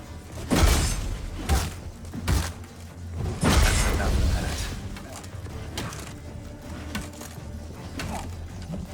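A heavy explosion blasts open a vault in The Witcher 3's Heart of Stone expansion, with a loud broadband crack and rumble, then scattered debris thuds and crashes over the following seconds.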